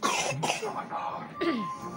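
A young child coughs several times in quick bursts while studying at home, close and fairly quiet, with a throat-clearing quality.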